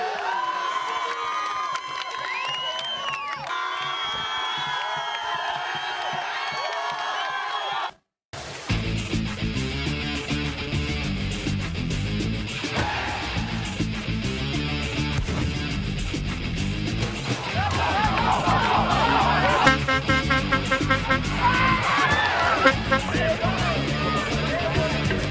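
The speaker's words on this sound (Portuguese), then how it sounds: "a torcida não para de gritar aqui" A football crowd at the Eco Estádio Municipal shouts and cheers steadily during a tense second half of a final, a dense roar that swells louder toward the end after a brief break, with a voice talking over it.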